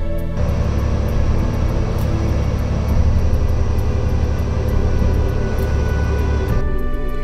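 A small airplane's engine drones steadily and loudly through a steep, bumpy landing approach as the pilot constantly adjusts the throttle, with a continuous close cabin hum and no talk.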